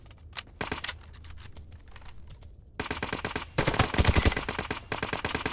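Rapid automatic gunfire in a first-person shooter, aimed at a giant enemy spider: dense bursts of loud, close shots, thin at first, then heavier and fuller after a short break.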